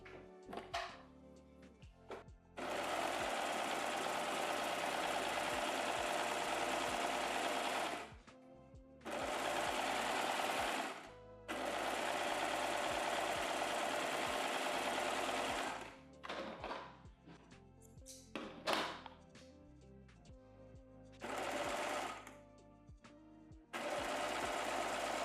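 A home sewing machine stitches a swimwear strap with no elastic foot, running in several loud sustained bursts of a few seconds each, separated by short pauses with clicks and fabric handling, close to the microphone.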